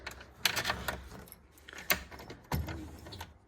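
Car keys jangle and clink at the ignition switch of a 1972 MGB, in several sharp bursts of metallic rattling with quieter handling between them.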